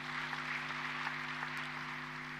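An audience at an international WFNS conference in Dar es Salaam, opened by President Samia, applauds with a steady, even wash of clapping over a low mains hum, heard alone without talk.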